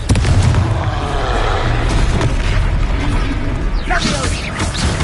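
Confringo spell explosions go off in a Hogwarts Legacy battle, a dense, loud run of booms and bursts over continuous combat noise, with a voice speaking partway through.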